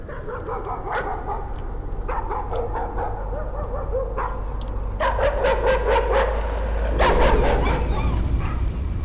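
A dog in the horror game Layers of Fear barks and yips in repeated sharp bursts, loud and close, with whimpering between them over a steady low background drone.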